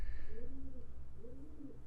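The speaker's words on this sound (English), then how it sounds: "Wow, the birds? The pigeons." Pigeons coo nearby in two soft, rolling phrases over a low steady hum, with no talking.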